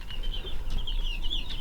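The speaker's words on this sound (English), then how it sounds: "So there's all different ages of chicks in here." Chicks of different ages in a pen peep almost nonstop in high, close chirps, with soft clucking and a low rumble underneath.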